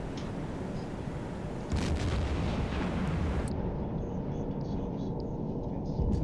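Torpedo impact explosions in the Silent Hunter submarine game: a deep rumbling blast swells and lingers as a low roar over a steady underwater background hum.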